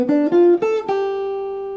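A short jazz guitar lick over a ii-V-I: a few clean, warm picked notes step quickly, then the last note rings out and slowly decays, played close and alone.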